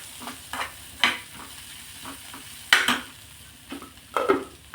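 Ground pigeon peas stirred into hot oil in a pan, soft sizzling under irregular scraping strokes of a spoon, close and fairly quiet with sharper scrapes every second or so.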